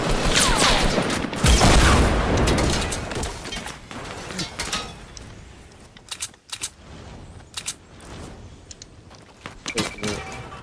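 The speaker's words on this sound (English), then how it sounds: "They're launching rockets." Rocket launches and explosions in Fortnite, a heavy burst of blasts early on followed by scattered booms and sharp impacts, fairly loud and close.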